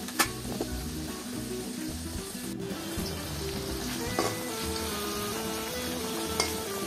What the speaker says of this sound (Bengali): আলু মোটামুটি ভালো ভাজা হয়ে গেছে,